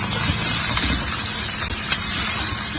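Spices sizzling loudly in a hot pan while being stirred for an Indian chicken masala, a dense continuous hiss close by with no talk.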